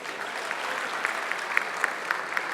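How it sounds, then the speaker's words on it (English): A comedy show crowd in Lagos applauds a comedian leaving the stage, dense continuous clapping with a few sharper claps standing out, steady and fairly loud with no talk over it. "I'm gonna clap for him."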